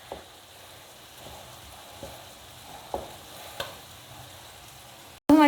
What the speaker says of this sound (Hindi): 2 से 3 मिनट इसको फिर फ्राई करना है मैंने।